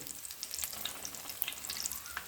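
Chilli fritters (mirchi bajji) frying in hot oil, a steady close crackle and sizzle with scattered sharp pops and no voices.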